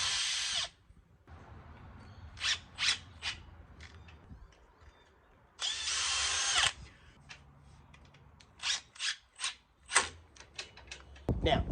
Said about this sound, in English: Just make sure you give it a pre-drill and then you can screw in with the impact driver.